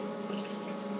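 A bathroom sink tap runs steadily during a night routine of face washing, giving a smooth, continuous hiss of flowing water, close and alone.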